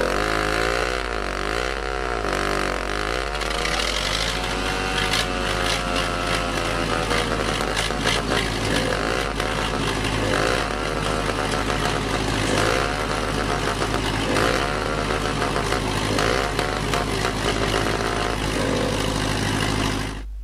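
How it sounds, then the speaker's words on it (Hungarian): A DT-75 crawler tractor's two-stroke starter motor runs in Farming Simulator 19, a loud, continuous buzzing drone with wavering pitch that holds steadily for about twenty seconds, with no talking. "ugye ez volt az a kétütemű hang, az volt ugye az indító motor, gyakorlatilag önindítóként funkcionál"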